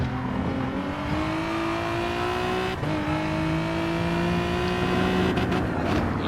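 A race car engine drones loudly and steadily through a Nurburgring GP lap in a racing video game, its pitch climbing under acceleration with a brief break for a gear shift before it rises again, with no voices.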